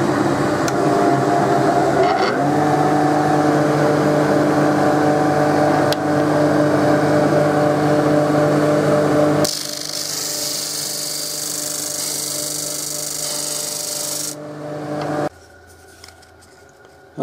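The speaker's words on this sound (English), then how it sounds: "I can then rest my workpiece in there and offer it up to the disc at the correct angle." A disc sander chamfers the front edges of knife scales. It runs as a steady, loud motor hum with grinding, shifts to a harsher, brighter grinding tone partway through, and then spins down near the end.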